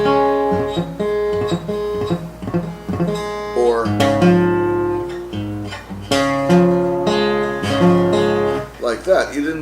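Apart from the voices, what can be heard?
guitar chord strummed badly, not a clear tone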